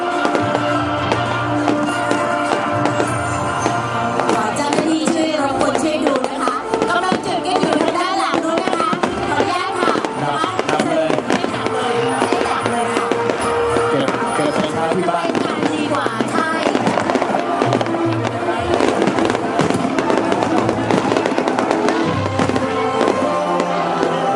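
Fireworks at a provincial council opening ceremony in Sa Kaeo, a dense continuous barrage of pops, crackles and bangs, loud and sustained throughout, with occasional voices underneath.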